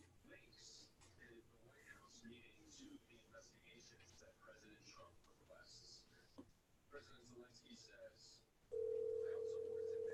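A telephone dial tone sounds during a call, a steady loud hum starting near the end after quiet rustling and faint handling noises from someone holding the phone.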